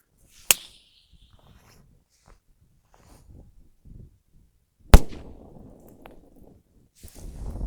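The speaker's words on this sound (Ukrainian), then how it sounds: "Невеличкий вибух, диму зовсім небагато, звук не дуже сильний." A sharp, small explosive pop, then a second louder bang followed by a brief rumbling tail and wind noise; modest rather than powerful. A Pyrosoft training grenade exploding.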